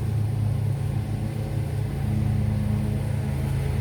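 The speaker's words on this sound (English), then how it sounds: "Apologize for the noise. They cutting grass" A lawn mower cutting grass nearby gives a steady, unbroken engine drone with a low rumble that holds at an even loudness for the whole stretch, with no one talking.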